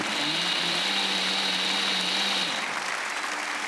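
A powerful 2.5-horsepower kitchen blender whirs steadily at high speed, a loud continuous motor whine that holds for a few seconds and then drops in pitch as it winds down, with no talking over it.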